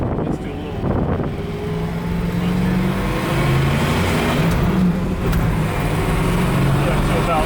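A 1969 Chevrolet Camaro drives and accelerates, its engine droning close and steady with rising revs under a continuous road rumble.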